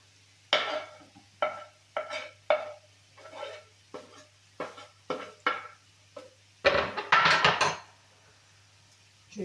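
Chopped onion and garlic are tipped into a pan of fried mushrooms: a series of close, crisp scraping taps from a spatula against the pan, then a louder burst of sizzling and clatter as the mixture lands.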